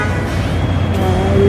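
Street traffic rolls by on a foggy Christmas morning as a steady, loud low rumble of engines. A faint rising tonal whine comes in near the end.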